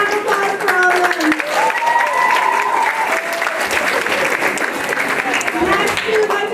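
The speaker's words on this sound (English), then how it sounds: "One more big round of applause for all of them." A high school audience at the Mr. GQ show gives a big round of applause for the stage crew, steady sustained clapping throughout with a voice talking over it.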